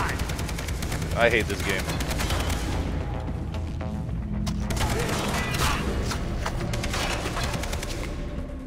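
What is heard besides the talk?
gunfire in the Far Cry 3 video game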